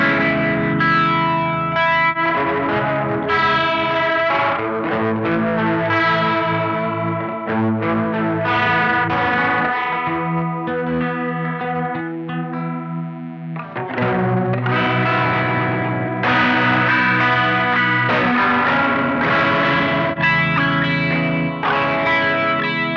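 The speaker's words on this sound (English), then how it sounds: "There's that 70s jet fuel flanging." An electric guitar played through distortion into a flanger pedal gives a sweeping, whooshing jet-like tone, with loud sustained chords and riffs over a long stretch and no talking.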